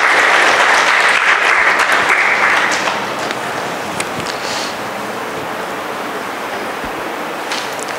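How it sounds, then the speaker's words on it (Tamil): Loud applause from an audience at a question-and-answer gathering, welcoming a donor with a thick burst of clapping that softens after a few seconds into steadier, quieter clapping. "அவங்க நம்ம எல்லாம் கரகோஷப்படுத்தி வரவேற்போம்"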